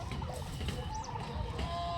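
Turkeys gobble and warble close by in a short burst, several birds calling over one another against a noisy farmyard background.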